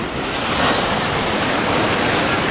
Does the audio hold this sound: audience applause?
no